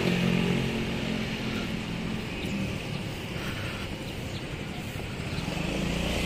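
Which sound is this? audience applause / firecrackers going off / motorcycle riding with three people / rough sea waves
motorcycle riding with three people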